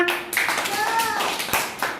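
First-grade children in a school classroom clap briefly in a few scattered, uneven bursts, mixed with a voice and an adult speaking nearby.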